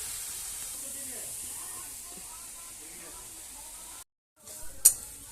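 Grated carrots fry in a pan for halwa, a faint steady hiss and sizzle that cuts out briefly and returns with a sharp clatter near the end.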